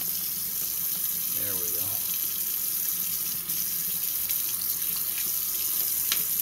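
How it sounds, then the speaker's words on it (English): Tap water runs steadily through a .45 caliber muzzleloader pistol barrel during cleaning, a continuous close hiss of flowing water, with a brief spoken remark. "I'm going to run this water right through here."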